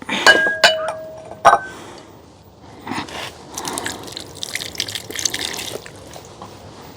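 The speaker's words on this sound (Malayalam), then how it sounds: "ഇച്ചിരി വെള്ളമൊക്കെ അങ്ങ് ഒഴിച്ചു കൊടുത്ത്" Water is poured into a plant bottle while a money plant is repotted, with a few sharp glass clinks at the start, then a soft, steady trickle and splash of water close by.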